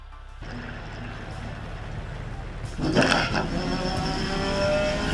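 Subaru touring car engine in GRID 2019 on a qualification lap, a steady loud drone that swells and rises in pitch as it revs near the end, with a voice talking over it.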